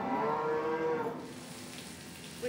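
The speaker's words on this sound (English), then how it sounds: "We've got a cow here that is obviously going to calve." A cow moos in a farm shed during a midwinter calving, one long, loud, close call with harmonic bellowing that fades after about a second into quiet barn ambience.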